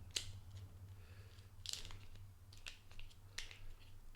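Several sharp snipping cuts of scissors, spaced a second or so apart, close and quiet against a low steady hum.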